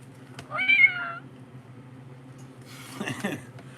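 A person vocally imitates a cat's meow, producing a single drawn-out, rising-and-falling mew up close, followed a moment later by a shorter, breathier vocal sound over a low steady hum.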